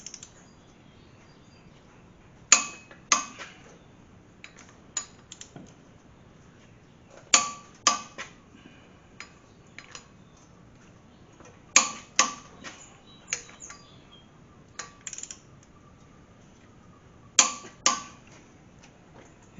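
Torque wrench clicking as flywheel bolts on an AMC Gremlin engine are tightened to 80 pounds, with sharp metallic clicks and ratchet ticks coming in short clustered bursts every few seconds, close and alone.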